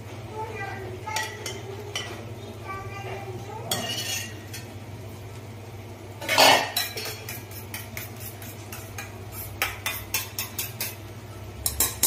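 Metal utensils clink and scrape against a pan while an omelette of two beaten eggs is started in the same oiled pan used for chicken fried rice, with scattered sharp taps, a louder scrape mid-way and a steady low hum underneath.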